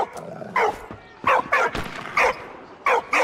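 A dog in the video game Valiant Hearts barks at a photo, a series of about six sharp, loud, close barks spaced irregularly over a few seconds with quieter gaps between.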